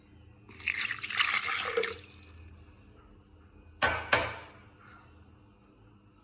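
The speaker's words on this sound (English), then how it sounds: "First of all, we will add water," Water pours into a blender jar for a mango strawberry slush, a rushing splash lasting over a second, then a quiet gap, then a shorter second splash.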